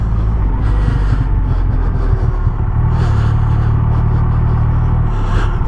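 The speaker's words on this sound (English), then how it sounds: "Very aggressive engine braking." A 2021 Triumph Rocket 3 GT motorcycle engine braking while riding, with a deep, steady low rumble and a shift in the engine drone partway through, heard up close alongside wind noise.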